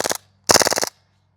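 A KWA MP9 airsoft gun fitted with a TAPP HPA adapter fires on full auto in two short bursts of rapid sharp pops, first a brief one and then a longer one, close and loud, alone.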